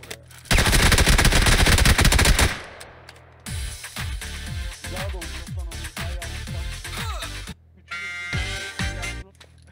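PUBG gunfire on Xbox Series X opens with a loud, sustained automatic burst, then gives way to rapid shot-by-shot firing and a final short burst, with some game effects between.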